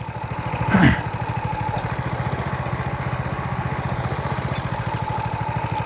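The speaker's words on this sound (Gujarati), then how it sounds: "એન્જિનને કોઈ પણ પ્રકારનો લોડ પણ આવતો નથી એકદમ સ્લો એન્જિનમાં ચાલે છે" A hydraulic mini tractor engine, a bike-based sanedo farm machine, idles steadily at low speed with a continuous rhythmic putter, close and fairly loud, interrupted by a brief louder burst near the start.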